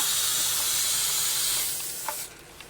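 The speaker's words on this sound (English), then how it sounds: "I'm spraying all around the edges, pretty good amount of it, and I have to do it on the back as well." Spray adhesive hissing from an aerosol can onto the edges of a lazy susan, a steady close hiss that cuts off near the end, followed by a couple of small clicks.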